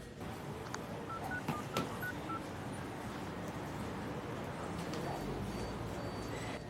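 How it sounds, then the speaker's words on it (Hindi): Touch-tone phone keypad dialing a number, a quick run of short electronic beeps over a steady room hum, fairly close and clear. "उनके ऑफिस में फ़ोन कर लूँ?"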